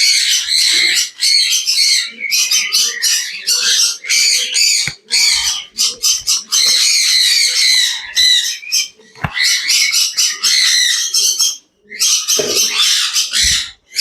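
Pigeons squawk loudly and almost nonstop while being caught one by one for deworming, harsh shrill bursts close by with brief gaps and a few knocks of handling.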